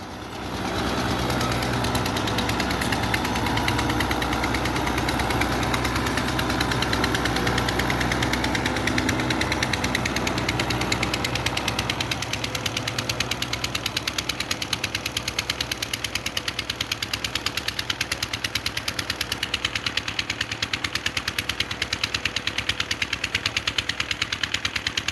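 A 2019 New Holland Al-Ghazi 640 tractor with a 75 hp engine runs steadily with a rough, knocking diesel rumble, loud and continuous throughout with no pauses or talk.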